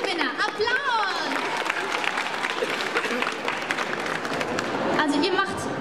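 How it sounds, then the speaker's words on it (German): Audience applause at a Sailor Moon quiz during the 2011 Frankfurt Book Fair, a steady wash of clapping mixed with crowd chatter, cheers and voices over it for the whole stretch, swelling again near the end. "Und wir haben einen zweiten Gewinner. Applaus!"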